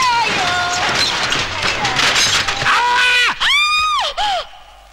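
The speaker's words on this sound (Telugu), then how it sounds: "నాకేదో అరుపు వినిపించింది." A loud, high-pitched scream with wavering harmonics rings out in a comic scene at a junkyard near a car crusher, rising over voices and clatter, then breaking into several sharp, sliding wails near the end.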